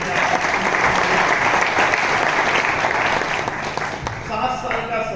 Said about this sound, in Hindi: मैं चाहूंगा एक बार उनके लिए भी जोरदार तालियां